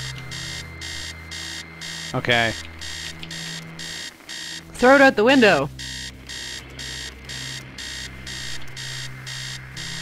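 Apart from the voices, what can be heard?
alarm clock ringing in the video game Stories Untold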